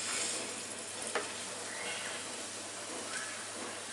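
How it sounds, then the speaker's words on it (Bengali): Battered tomato slices stuffed with peanut and coriander filling frying in hot oil, giving a steady, even sizzle and hiss throughout with a faint tap or two, no talking. "এখন এইটাকে নিয়ে আস্তে করে যাতে ব্যাটারটা খুলে না যায় এই তেলের মধ্যে দিয়ে দিতে হবে।"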